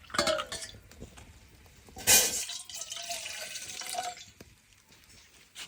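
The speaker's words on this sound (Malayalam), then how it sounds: "നമുക്ക് ശർക്കര ഒരുക്ക വെള്ളം വെക്കുകയാണ്. കുറച്ച് വെള്ളം, അധികം വെള്ളം വേണ്ട, ഒരു ഗ്ലാസ് വെള്ളം." About a glass of water splashes and trickles into a metal pot for jaggery syrup, with a louder gush midway, soft clinks of cookware and drips between pours.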